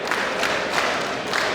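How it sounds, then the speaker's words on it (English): A wrestling arena crowd roars and cheers steadily throughout, a dense, even wash of many voices with a few louder swells. "Listen to this crowd"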